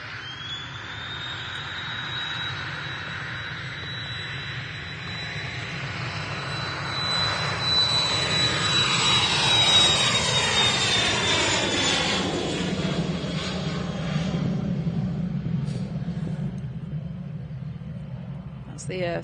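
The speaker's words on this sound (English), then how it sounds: "The Cessna 560 XL Citation XLS." A Cessna 560 XL Citation XLS business jet departs, its engine roar building from a steady whine to a loud swelling rumble as it passes and climbs away, with people talking over it.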